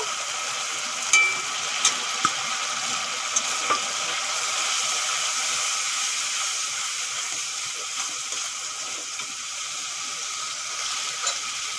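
Ground cumin, coriander, Kashmiri chilli and turmeric frying in a pan with ginger, garlic and tomato, a steady close sizzle with occasional light clicks of a spoon stirring.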